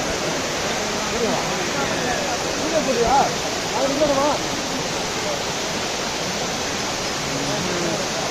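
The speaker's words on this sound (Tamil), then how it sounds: "தண்ணி பாருங்க எவ்வளவு மேல இருந்து ஃபுல்லா." The Courtallam waterfall in Tamil Nadu roars loud and steady, a constant rushing wash of falling water, with a crowd's voices faintly mixed in underneath.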